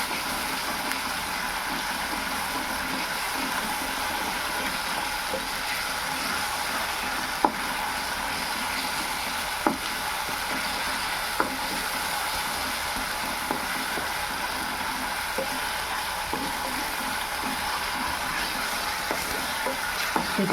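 Onion and ginger-garlic paste frying in a pan for a Burmese-style fish curry, a steady close sizzle with occasional soft scrapes and clicks of stirring throughout.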